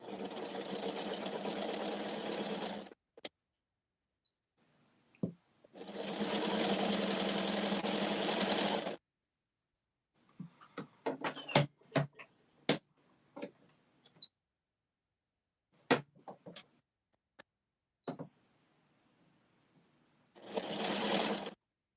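A sewing machine stitches a three-thread rolled hem in two steady runs of a few seconds each, separated by quiet gaps filled with scattered clicks and ticks from handling, with a brief final burst of sewing at the end.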